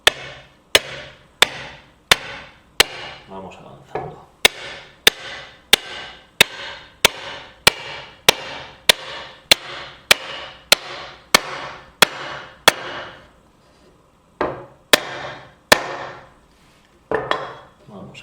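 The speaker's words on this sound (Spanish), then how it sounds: "Y ahora con el martillo" A hammer taps a wooden tenon into its mortise in a woodworking joint, striking roughly twice a second in sharp, close, regular blows with a few pauses, a short spoken phrase in between.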